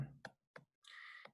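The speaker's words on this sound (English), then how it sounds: "I'm hoping you can hear me like actually typing this into my phone in the background" Soft tapping of fingers typing numbers into a smartphone, a few separate quiet clicks followed by a brief rustle, close and faint with no talking.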